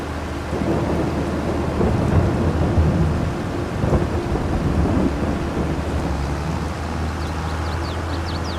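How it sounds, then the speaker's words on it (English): Rain and thunder in Farming Simulator 22, a steady loud downpour with low rumbling thunder rolling through and swelling midway, no voices over it. "We'll wait out the rain."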